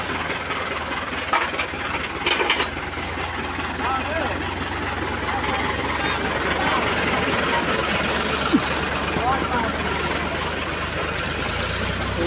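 Four tractors run together, pulling a loaded sugarcane trolley along a badly damaged village road, with a steady low engine rumble continuing throughout under people talking.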